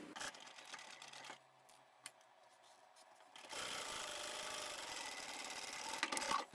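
Sewing machine top-stitching along zipper tape on a small vinyl boxy bag, a quiet stop-start whir in the first seconds, then a louder steady mechanical drone from about the midpoint to the end.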